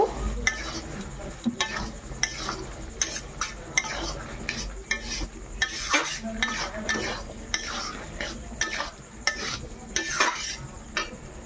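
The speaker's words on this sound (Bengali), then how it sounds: "কাজু, পোস্ত, চারুমগজের বাটাটা দিয়ে দেবো। ভালোভাবে কষিয়ে নেব।" Chana masala being stirred and sautéed in a pan with a paste of cashew, poppy and melon seeds: repeated scraping spoon strokes and clinks over a soft steady sizzle.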